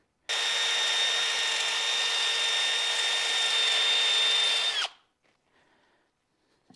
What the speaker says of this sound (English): Now I want to switch to the wheel part of the wire wheel, clean up these mating surfaces.